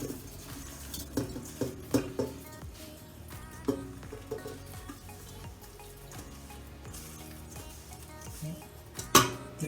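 Sticky marinated rhubarb tipped from a bowl into a big pot, with scattered clinks and knocks of utensil on metal and wet slithering between them, close and moderately quiet.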